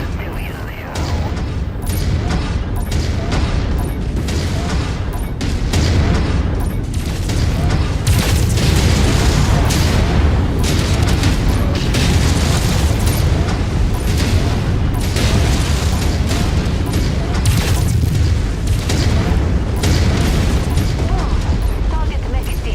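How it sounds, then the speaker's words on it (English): A battling mech blown apart in a video game, a dense, continuous barrage of loud explosions, booms and weapon fire rumbling over its whole length, with voices buried beneath. "Target mech destroyed."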